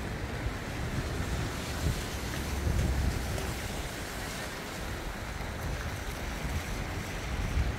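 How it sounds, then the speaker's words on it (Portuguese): The flooded Itajaí Mirim river in Brusque rushes past in a continuous, loud, broadband roar of churning water mixed with wind buffeting the microphone. "A água do rio tá correndo bonito."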